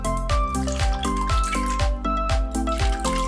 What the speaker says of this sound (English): So I need to fill the pan with water